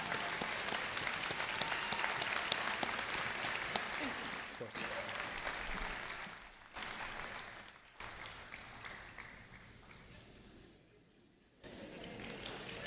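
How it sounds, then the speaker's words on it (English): A crowd applauds graduate Najri at a law school hooding ceremony, the sustained clapping filling the room at moderate distance, dipping in brief lulls and rising again toward the close. "Round of applause for Najri."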